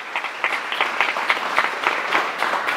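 An audience at a Hanuman foot-pilgrimage gathering claps in a short, brisk burst of applause, dense and fairly close.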